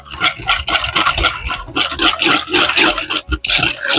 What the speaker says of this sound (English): Whisk it a little bit.